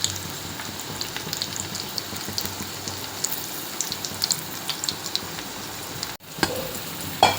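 Bhajji fritters fry in hot oil with a close, continuous bubbling crackle and scattered pops, broken by a brief drop-out near the end before the sizzling resumes.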